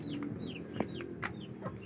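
Chickens being raised for sale cluck softly and intermittently, with a few short calls over a faint steady background, fairly quiet and not very close.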